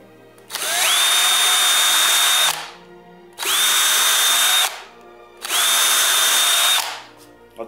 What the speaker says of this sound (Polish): Więc musimy wywiercić nowe otwory.